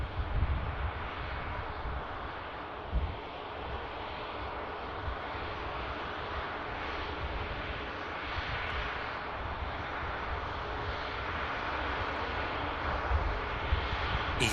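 A jet aircraft vacates the runway on a rapid exit taxiway at Manchester Airport, its engines making a steady, broad, distant roar that holds at an even level and never fades.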